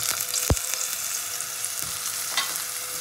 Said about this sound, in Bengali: এবার বেগুনটাকেও হালকা করে ভেজে নেব